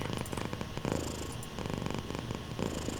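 A pet cat purring continuously and loudly close up, a dense rhythmic rumble that holds steady for the whole stretch with no talking over it.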